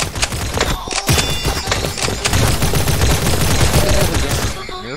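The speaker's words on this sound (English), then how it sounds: "Nerf gun. I don't like the Nerf gun." Nerf gun firing in a video game, a rapid clattering burst of shots with sharp repeated impacts over busy game sound.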